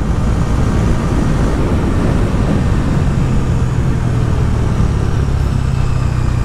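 A Bajaj Dominar 250 motorcycle rides along a quiet paved road, giving a steady, close engine drone mixed with wind rush that holds at an even level throughout, with no talking.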